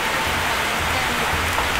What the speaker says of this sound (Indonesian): Jadi kita menunggu hujan dulu karena harinya hujan.